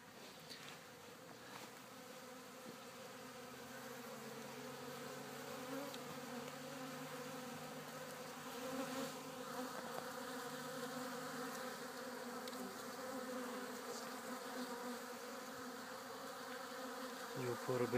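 Honeybees buzzing around bee waterers filled with nettle decoction and sugar, a dense steady hum of many insects close by, rising slightly toward the end.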